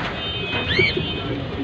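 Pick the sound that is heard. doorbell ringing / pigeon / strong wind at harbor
pigeon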